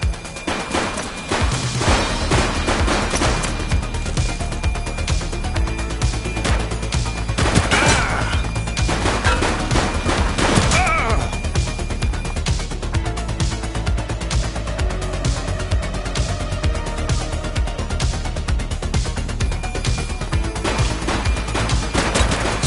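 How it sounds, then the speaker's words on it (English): Sustained gunfire crackles through a police shootout in a video game, dense rapid shots and crashes running loud and unbroken for over twenty seconds with almost no pause. "She's shooting!"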